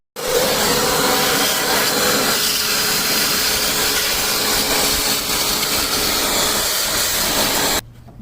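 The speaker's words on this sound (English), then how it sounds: "we're going to go ahead and vacuum that out" A vacuum roars steadily at close range while cleaning out the valve cover area of a 1995 Mercedes-Benz W140 S500 engine, a loud broadband hiss that stops abruptly near the end.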